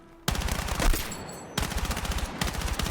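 An M4A1 in Battlefield 6 is hip fired in two rapid automatic bursts, a dense, loud rattle of evenly spaced shots with a short pause between them, then more shots near the end.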